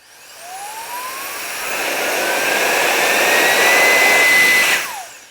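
An electric air duster blower runs with its trigger held, a loud steady whine and airy rush that spins up over a few seconds, holds, then cuts off abruptly near the end, with no talking.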